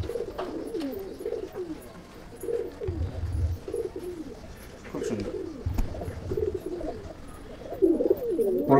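Pigeons in a loft give repeated soft, rolling coos close by, in uneven bursts, with a few low muffled thumps between calls.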